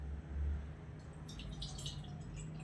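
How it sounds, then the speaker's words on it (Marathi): Water is poured into a pan to start tea in a home kitchen, with a child doing the pouring: a faint, soft trickle and splash building up over the second half, with a low hum underneath. "पाणी टाक"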